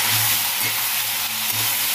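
Ivy gourd sizzles and fries in hot mustard oil, a steady loud hiss with soft low pulses from the pan throughout, no voices.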